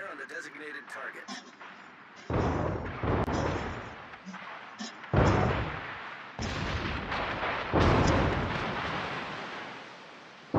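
Naval guns fire in the World of Warships video game, loud booming salvos repeating every second or two over the game's radio-style voice announcements and background battle noise.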